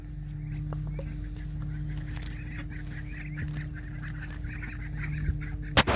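Chickens cluck and murmur in a group over a steady low hum, with a sharp knock near the end.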